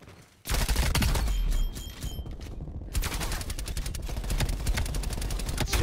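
Rapid rifle gunfire from the video game Call of Duty: Black Ops Cold War, loud bursts of automatic shots with a short lull, then a sustained, dense volley of rapid shots filling the rest.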